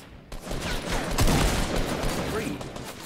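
Rapid bursts of gunfire in the video game Fortnite, loud and dense, rattling almost continuously for about three seconds with voices talking over it.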